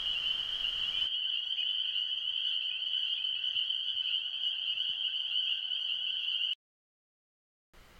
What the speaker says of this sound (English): it was pretty amazing hearing all those frogs